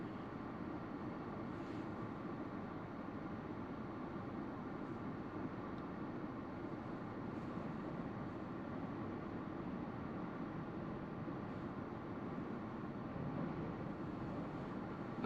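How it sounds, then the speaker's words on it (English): Strong blizzard wind in West Michigan roars steadily, a low constant rushing rumble that stays even and fairly faint throughout, with no talk. "A very strong wind's blowing through here."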